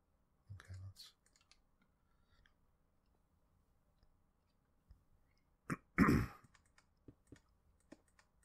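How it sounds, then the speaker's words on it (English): A man seated at a computer keyboard during a Minecraft session breaks into a short fit of coughing, two harsh bursts separated by quiet, with faint keyboard clicks around them. "I got a little coughing fit there."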